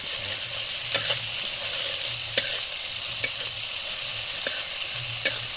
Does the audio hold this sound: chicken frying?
yes